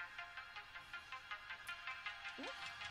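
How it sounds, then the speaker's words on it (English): A phone ringtone at a live stage event sounds as a steady pulsing electronic ring repeating in quick regular beats, moderately loud over a hall's background. "You hear it ringing?"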